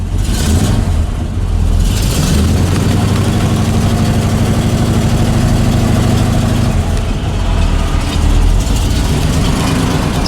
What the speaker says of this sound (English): For being a tired old engine, it sounds pretty good. It idles cold.